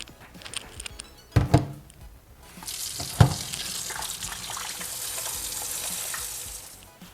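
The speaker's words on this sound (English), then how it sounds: "we're just gonna wash it with some room temperature water" Room-temperature tap water runs over a chicken breast soaking with about 3 tablespoons of vinegar, a steady splashing wash after a couple of sharp thunks, close and alone.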